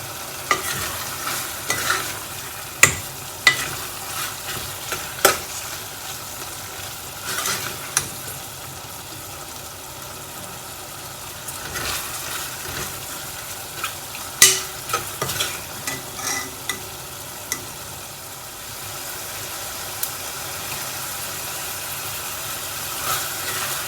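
Beef fry cooking down to a thick mass in a pan: a continuous low sizzle runs throughout, punctuated by repeated sharp knocks and scrapes of a spoon stirring against the pan, with no talking.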